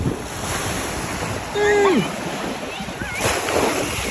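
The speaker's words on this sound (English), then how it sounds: "Look how big them waves is coming out." Ocean surf at Panama City Beach rumbles steadily with wind buffeting the microphone, while a voice speaks briefly over the wash of the waves.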